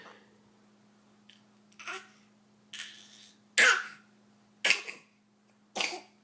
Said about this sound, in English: Oh, he got a real cough out.